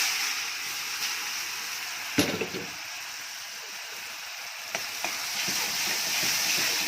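Onions frying in oil in a pan for a fish and rice dish, a continuous bright hiss and crackle with a couple of sharp stirring knocks, no talking.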